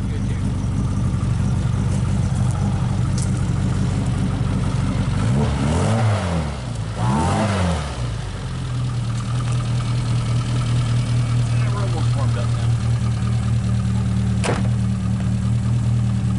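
A classic Mini car engine idles with a lumpy throb, swells into a couple of revving sweeps up and down in pitch, then settles back to a steady idle, with voices talking over it.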